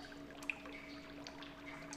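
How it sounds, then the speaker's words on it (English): Trickling water in a volcanic cave in the Nancy Drew game The Creature of Kapu Cave: a faint, quiet liquid trickle with small drips over a steady low ambient hum. "Trickling water."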